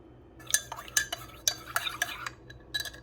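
A spoon stirs Nesquik into whole milk in a glass, making a series of sharp, bright clinks against the sides at an uneven rhythm. The clinks are close and clear over a quiet background.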